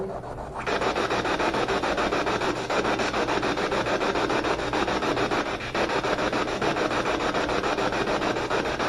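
An SB7 spirit box radio sweeps through stations as a constant loud rasping static hiss with rapid choppy pulses, starting abruptly and running without pause.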